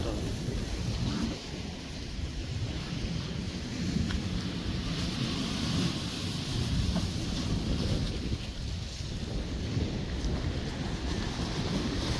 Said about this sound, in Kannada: ಜೋರು ಬರ್ಸ